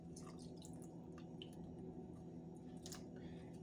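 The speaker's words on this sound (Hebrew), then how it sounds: "ואנחנו מתחילים לערבב. אנחנו צריכים לקבל עיסה די דביקה" Sticky tempura batter of flour, vinegar and water being stirred by hand, giving quiet wet squishing and dripping sounds in close, soft irregular bursts.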